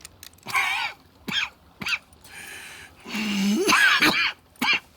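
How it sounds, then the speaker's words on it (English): Several harsh, raspy coughs from a tuberculosis-stricken character in Red Dead Redemption 2 come in short bursts, close and fairly loud, with one longer hacking fit in the middle and quiet gaps between. "That's quite a cough."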